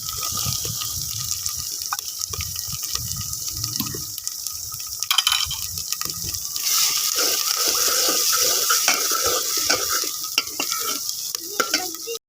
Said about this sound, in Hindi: मैंने इसमें थोड़ा सा पानी ऐड किया है